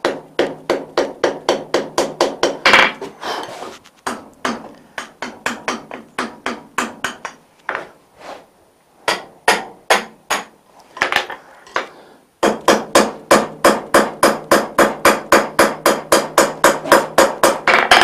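Forge welding a butt-welded steel ring: loud, close hammer blows on an anvil ring out in fast, steady runs, broken by a short pause and a few scattered strikes before another long rapid series.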